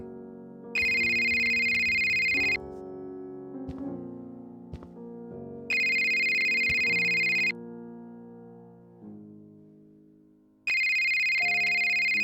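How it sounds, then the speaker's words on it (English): A cell phone rings in the video game Scott Whiskers in the Search for Mr Fumbleclaw, with three bursts of a bright electronic ringtone separated by pauses, loud over soft background game music. "when a phone suddenly starts ringing"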